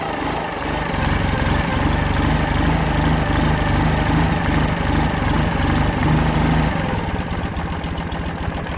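A carbureted 2009 Ural Sahara sidecar motorcycle engine idles with its enrichener pulled out on a 40-degree day, a steady, loping mid-low rumble running loud and close for most of the clip before easing slightly.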